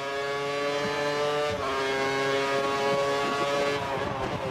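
Ferrari race cars scream past on a circuit during a Korean race, their high engine whine rising and shifting as they pass close and loud, a continuous dense roar with no talk.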